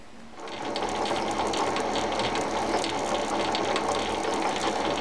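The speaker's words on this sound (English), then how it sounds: "that's the 45 tooth gear mounted and running" A metal lathe running under power with a newly mounted 45-tooth back gear, set up for cutting 1.5 mm threads, gives a steady loud whirring mechanical drone with a fast gear-meshing rattle that starts abruptly and continues, with no talking.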